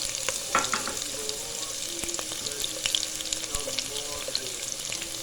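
Onion sizzling in a pan of hot oil for a rustic Egyptian farmhouse spinach dish, a steady close bright frying crackle with small stirring clatters and no talk.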